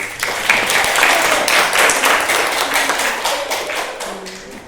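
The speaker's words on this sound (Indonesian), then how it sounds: "Kasih tepuk tangan" Classroom applause from students after a group presentation, a steady dense patter of many hands clapping that fades slightly toward the end, with no talking.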